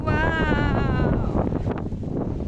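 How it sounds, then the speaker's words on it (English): Strong gusty wind buffets the microphone on a rocky mountain summit trail at Sant Jeroni, Montserrat, a loud continuous roar with a faint tonal whistle early on, sounding close and steady throughout. "So windy."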